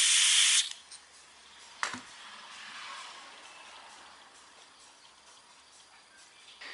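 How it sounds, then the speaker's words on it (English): Penetrating lubricant sprayed from an aerosol can onto the brake hub and rotor of a 1987 Toyota Corolla AE86, a loud hissing burst followed by a sharp tap and fainter lingering hiss. "spray it over the top of the top notch"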